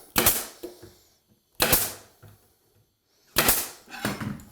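A nail gun fires into a wooden closet panel while it is being squared up: three sharp, loud cracks spaced well apart, each with a short rattling tail, and no one talking in between.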